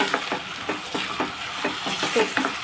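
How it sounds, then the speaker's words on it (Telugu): Raw potatoes are stirred in a hot frying pan for a potato and mango curry, with repeated scraping strokes of a spoon over a steady sizzle and nobody speaking. "బంగాళదుంపలు కూడా వేసేసుకుని ఒకసారి కలిపి మూత పెట్టుకోండి"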